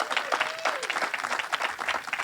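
Brief burst of applause for the graduating class of 2021 at a Magnet High School graduation ceremony, moderate scattered clapping with a faint tonal whistle early on.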